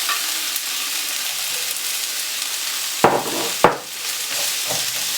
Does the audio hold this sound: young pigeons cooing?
no